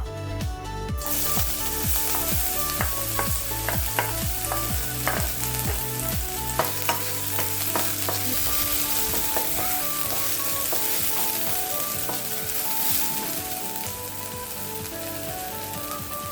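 Ginger sizzles steadily in a hot pan with a little oil, crackling evenly, with light stirring taps under soft background music.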